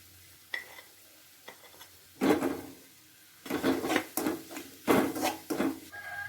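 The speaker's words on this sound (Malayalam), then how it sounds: "ചേർത്തിളക്കാം." A spoon stirring homemade mango pickle mixed with roasted ground chilli, fenugreek and mustard, giving soft scraping and squelching strokes in irregular bursts, close and fairly quiet, with no talk.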